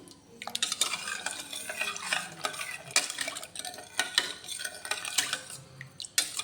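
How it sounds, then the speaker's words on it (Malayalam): Grapes and sugar are stirred in a pressure cooker pot for homemade grape wine. A spoon makes irregular scraping and clinking strokes against the metal, close and uneven, with no talking. "കുറച്ചൊരു ഇതായിക്കൊണ്ട് കുറച്ച് സമയം നന്നായി ഇളക്കി കൊടുക്കാം"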